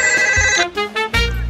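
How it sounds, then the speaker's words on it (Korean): A phone ringtone for an incoming call plays a loud, close electronic melody of bright, repeating tonal notes, with short gaps between phrases and no voices over it. "아, 전화가 왔어요."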